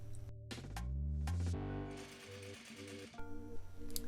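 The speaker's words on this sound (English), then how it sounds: "So here I'm just doing the 2 rows of stitching all around the pocket bag" A sewing machine stitches two rows around the edges of a cargo pocket bag, running in quick mechanical bursts with pauses and changes in speed, close and fairly quiet.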